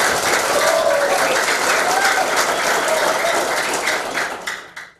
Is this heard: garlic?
no